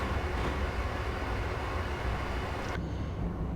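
An Amtrak Acela Express rumbles along the Northeast Corridor in Train Simulator 2016 as a steady, loud, broadband roar of rolling wheels and wind, with the high end dropping away abruptly near the end.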